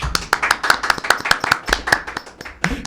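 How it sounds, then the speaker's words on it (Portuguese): A church audience claps in quick, dense rapid rhythm, close and loud, applause filling the whole stretch without speech. "Aplaudam o homem de Deus"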